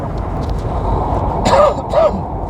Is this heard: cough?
yes